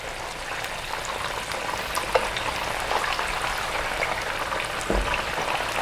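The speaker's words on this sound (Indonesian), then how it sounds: "Nah, ini goreng ayamnya udah ya, seperti ini." Chicken pieces fry in hot oil for Manado-style ayam rica rica, a soft, even sizzle with occasional pops and crackles, fairly quiet and heard alone.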